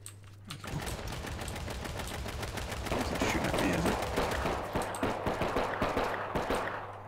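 Gunfire in the survival shooter H1Z1: King of the Kill, rapid bursts of shots cracking one after another for several seconds, fairly loud and close.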